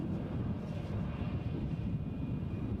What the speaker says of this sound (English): this Loganair outbound to Southampton